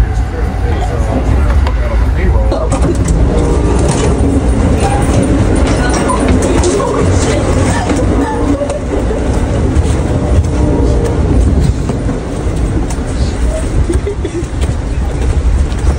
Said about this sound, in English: Okay, so we are currently on our train back home.